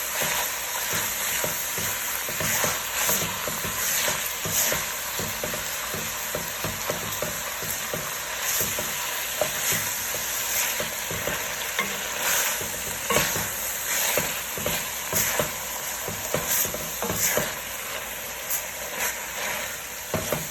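Partly frozen ground beef browning in a pan for lasagna, a loud, steady crackling sizzle throughout with occasional scraping of stirring, no talk.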